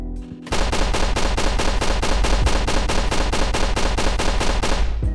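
Gunfire in a Godot first-person shooter game rattles out as a loud, rapid, evenly spaced burst of about sixteen shots, each sharp and punchy, with no talking.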